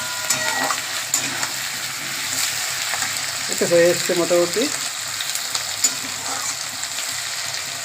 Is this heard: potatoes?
yes